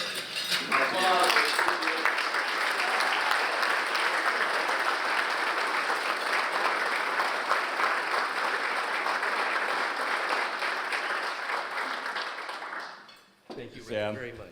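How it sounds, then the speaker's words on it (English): An audience at a charity luncheon breaks into sustained applause, a loud, even wash of clapping that fades near the end, with a voice speaking briefly at the start and again as it dies down. "Let's give Sam a rousing applause."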